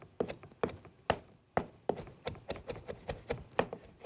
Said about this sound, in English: keep pushing it into the middle so that those bigger pieces get chopped as well